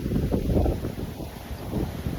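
Blustery wind rumbles against the microphone in uneven gusts, a low buffeting roar filling the short stretch.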